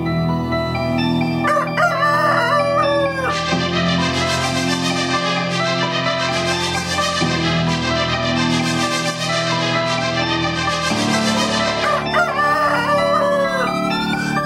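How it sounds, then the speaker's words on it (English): A rooster's cock-a-doodle-doo crows rise sharply near the start and again near the end, set inside a loud, dense music track with steady beats and sustained tones. "Cock-a-doodle-doo, cock-a-cock-a-doodle-doo, cock-a-cock-a-doodle-doo, won't you give me one or two?"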